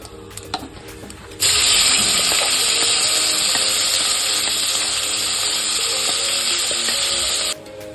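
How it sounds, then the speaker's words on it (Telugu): Cumin and a ground masala paste hit hot oil for a Telugu-style fish curry, bursting into a loud, steady sizzle after a quiet moment and holding for several seconds before cutting off. "జీలకర్ర ఫ్రై అయిన తర్వాత మనం మిక్సీ పట్టుకున్న పేస్ట్ ఉంది కదా అది అందులో వేసుకోవాలి"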